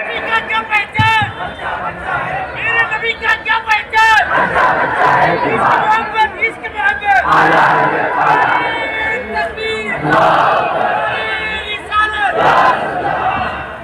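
A large crowd at a religious speech chants the Nara-e-Takbeer slogan in loud, rhythmic call-and-response bursts, voices rising and falling together close and powerful over about fourteen seconds.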